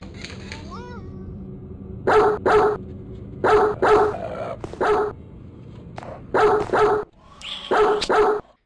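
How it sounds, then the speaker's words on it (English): A dog in a mobile horror video game barks in short repeated bursts, sharp and close, spaced irregularly over a steady low game ambience with some whimpering tones. "there's a dog. Thankfully, it doesn't want to kiss me, but it will bark at me and follow me around"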